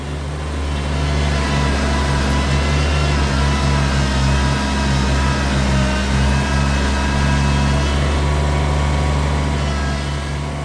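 A John Deere 1025R compact tractor engine holds a steady, loud drone at 3,000 RPM while pushing its loader bucket into a dirt and rock pile, a continuous mechanical hum with slight load variations throughout.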